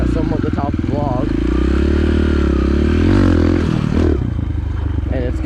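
An enduro motorcycle engine drones loudly and steadily as the bike rides over a log, the tone shifting and rising slightly midway, with a voice talking over it throughout.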